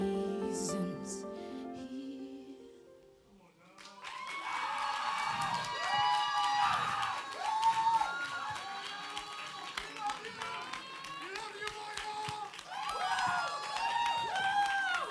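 A live show audience bursts into loud cheering, whoops and sustained applause that swells and stays dense for many seconds, following a brief stretch of music and voice at the start.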